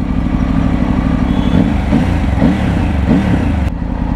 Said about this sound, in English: When you switch the engine on,